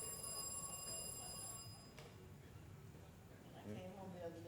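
A telephone rings indoors with steady bell-like tones for about two seconds, then fades into room noise and faint voices.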